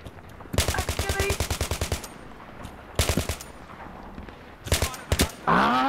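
Automatic gunfire in the Battlefield 3 video game: a long rapid burst of shots, then two shorter bursts, loud and close, with a voice briefly heard near the end.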